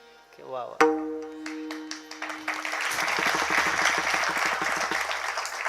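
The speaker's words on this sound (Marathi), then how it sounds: "एकच वाक्य बोललो, टाळ्या झाला." An audience at a kirtan bursts into applause after a short tonal sound, the clapping swelling into a dense, sustained wave of many hands.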